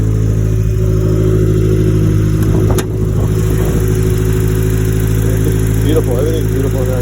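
A 1995 Mazda Miata turbo with a newly installed head and APR head bolts idles after a cold start, a loud, steady, close-up engine drone with a brief clatter near the middle and faint background voices.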